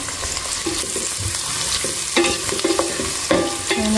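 Onions and green chillies fry in a pan for a methi dal, giving a steady loud sizzle with repeated scraping stir strokes close by and no talk.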